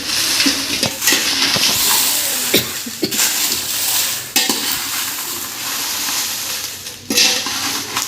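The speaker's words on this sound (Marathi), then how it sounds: "मीडियम टू लो गॅसवरतीच आपल्याला मिरच्या भाजून घ्यायच्या आहेत" Dry red chillies roast in a pan over medium-low gas for Solapuri kala masala. A spoon scrapes and stirs with repeated sharp knocks against the pan over a continuous frying hiss, up close and with no voices.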